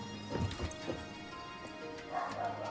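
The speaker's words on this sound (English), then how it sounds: "these dogs are a lot sometimes." Dogs bark and yip indoors in a handful of short, sharp bursts, fairly close and spaced irregularly over a couple of seconds.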